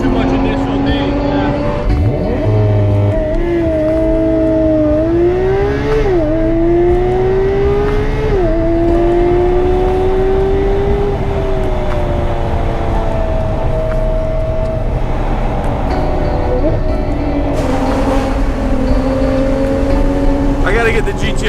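A Porsche 991.2 GT3 RS driven hard from inside the cabin, its engine holding a loud steady howl that climbs and dips through shifts while people talk over it.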